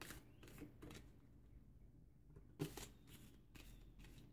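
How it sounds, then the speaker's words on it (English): Repeated riffling bursts of large, oversized cards being shuffled close by, several quick rounds separated by short pauses, with no talking. "Got to make sure we shuffle them really good."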